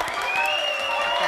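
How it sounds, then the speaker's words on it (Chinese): A studio audience claps and cheers on a game show, a short burst of dense clapping with a talking voice riding over it. "掌声鼓励一下"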